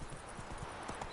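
Roach, the horse in The Witcher video game, gallops in a quick burst of rhythmic hoof clip-clops, close and fairly quiet, with a faint snort mixed in.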